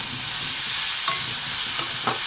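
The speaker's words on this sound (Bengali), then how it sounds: "এবার আমি এটাকে ভালো করে একটু কষিয়ে নেব।" Pumpkin and drumstick curry sautéing in a pan, a steady close sizzle with a few soft scrapes of the spoon as it is stirred, no voices.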